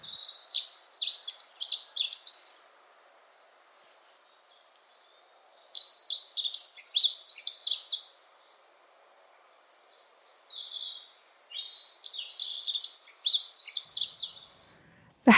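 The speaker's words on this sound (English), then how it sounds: "currently they can be heard singing their song from high perches" A dunnock sings from a high perch, three bursts of bright, rapid warbling phrases with short silent gaps between them, clear and moderately close, with no other sounds.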